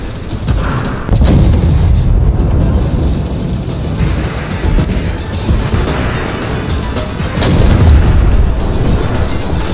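Heavy artillery fire rumbles continuously in the Armored Warfare video game, with dense, loud low booms and blasts filling the battlefield mix.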